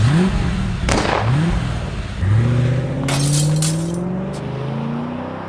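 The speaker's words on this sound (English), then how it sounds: "car just kept driving off" Comedy radio-play sound effect of a car speeding away from a showroom: loud engine revving with rising pitch sweeps as it accelerates, plus a brief crash of breaking glass, with no voices.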